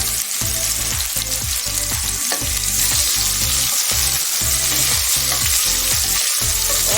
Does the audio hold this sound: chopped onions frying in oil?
yes